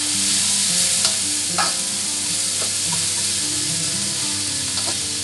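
Carrots fry in a pan with a loud, constant hiss of sizzling oil, punctuated by several sharp scrapes and knocks of a utensil stirring them; no speech.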